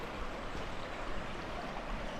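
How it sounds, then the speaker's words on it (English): A creek near Cavern Falls in Saluda, North Carolina flows in a steady, even rush of water, close and constant with no talk over it. "So I made it to the creek"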